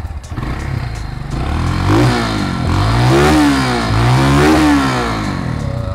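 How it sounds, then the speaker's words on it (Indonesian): A Kawasaki W175TR motorcycle on its stock exhaust revs loudly and close by, with the engine rising and falling through several throttle blips over a steady idle rumble. "Terus knalpot bawaannya ini ya teman-teman, walaupun dia bentuknya kayak standar gitu, menurut gue suaranya cukup menggoda."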